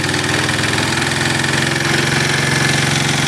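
An engine running on wood gasifier fuel idles loudly and steadily nearby, a dense, even mechanical drone with a faint rhythmic pulse and no gaps.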